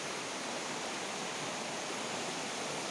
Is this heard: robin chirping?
no